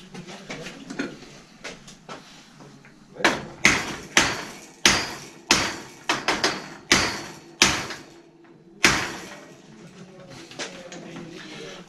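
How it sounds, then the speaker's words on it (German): Rubber mallet driving a bottom bracket into a Mifa bicycle frame during a cone-to-square-taper conversion: a run of about a dozen sharp, close blows in an uneven rhythm, alone after quieter handling noise. "Oder man macht es halt mit dem Gummihammer, treibt es ein."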